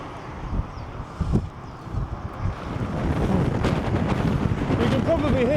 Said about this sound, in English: the wind is very strong on this bridge